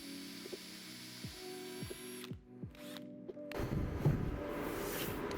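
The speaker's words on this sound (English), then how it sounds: "I just drilled into the table" A power drill whirs steadily with rhythmic ratcheting pulses, cuts out briefly, then grinds loudly as the bit bites into a wooden table.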